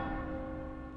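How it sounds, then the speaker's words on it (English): A church bell in the Assassin's Creed video game rings with a sustained, resonant tone that fills the whole second, loud and slowly decaying with no talk over it. "The bell should have like rang pretty much at that climax."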